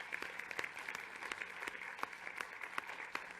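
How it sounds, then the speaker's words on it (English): Applause in a session of the Mexican Congress, a steady patter of many hands clapping in a large hall, heard from a little distance and fairly quiet. "I ask for applause for Jaime Maussan."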